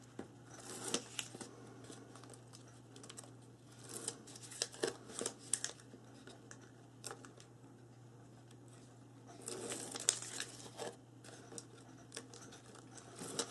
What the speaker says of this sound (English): Then I'm going to peel the backing off.